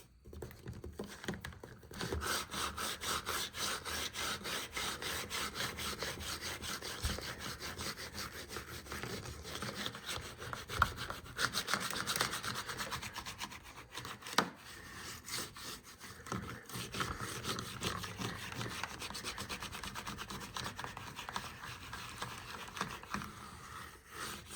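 Gritty rubbing across car paint while overspray, tar and sap are lifted off, a continuous coarse scrubbing with rhythmic back-and-forth strokes, close and steady for a long stretch.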